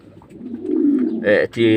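Brooding king pigeons coo with low, throaty rolling calls, close and fairly loud, with a short burst of a second coo near the end.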